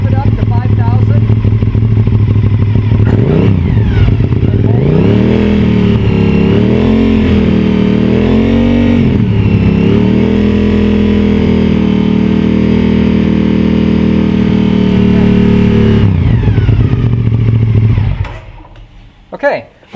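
A motorcycle engine revs up hard and holds steady at high RPM for most of the run, loud and close, then drops back toward idle near the end during a charging system test.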